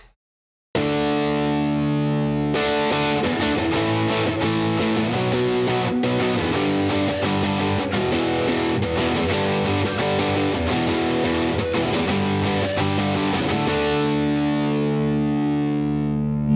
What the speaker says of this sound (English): Now we're gonna go into more in the distortion territory, which is gonna be more saturated, more gain, just more fuzzy.